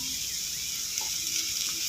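Shrimp frying with turmeric powder in a pan, a dense, steady hiss of sizzling oil with a soft stirring scrape, close and continuous.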